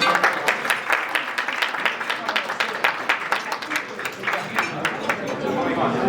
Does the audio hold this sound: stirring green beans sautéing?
no